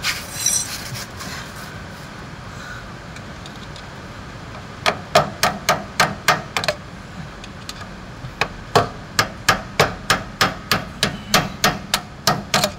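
Repeated sharp hammer strikes on metal, coming in quick regular bursts after a quiet stretch, during a brake lining replacement, close and loud over a low background hum.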